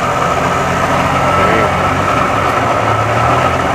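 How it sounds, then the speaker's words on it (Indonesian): A car engine converted from petrol to gas fuel idles steadily and loudly at close range, a continuous low rumble with no pauses and no voices. "Mesin tanpa mati, jadi terus jalan terus."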